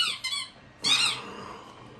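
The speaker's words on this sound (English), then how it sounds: "Whoever bought him this squeaky toy," Squeaky dog toy shaped like a football, squeezed in a few quick high-pitched squeaks: two short chirps followed by a longer, louder wheezing squeal, close and clear with no talking.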